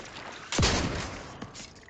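A single heavy gunshot booms up close in The Outer Worlds 2, its thud trailing into a rolling, fading tail before a fainter second shot follows.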